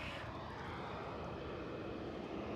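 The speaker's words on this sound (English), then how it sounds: "Here we go, Ryanair to Gothenburg." A Ryanair jet departs Edinburgh Airport bound for Gothenburg, its broad engine roar steady and moderately distant throughout, with no voices over it.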